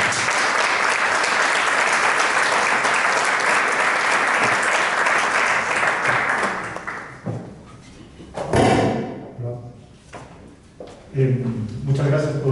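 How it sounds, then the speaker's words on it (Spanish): Sustained applause from a conference audience fills the hall for about seven seconds, then fades out into quieter room noise with a few thumps and brief voices near the end. "para quienes pido un fuerte aplauso"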